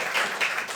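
Applause from the audience at a Temple City city council meeting, a short burst of scattered hand claps in a room, moderately loud with no talk over it.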